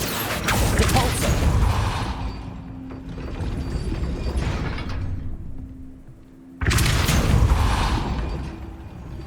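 Depulso repelling spell in Hogwarts Legacy, two loud whooshing, rumbling bursts with a quieter lull between them, no speech.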